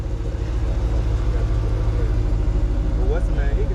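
Deep idling rumble of a 2014 Dodge SRT with a Hemi V8, steady and close throughout, with people talking over it.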